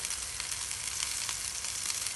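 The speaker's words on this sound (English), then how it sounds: "I'm going to get all these meatballs into the frying pan and give them 5 minutes to cook" Meatballs fry in a frying pan with a steady, close, crackling sizzle that stays even throughout, dotted with small pops.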